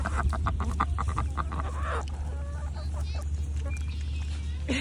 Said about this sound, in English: Look at this duck.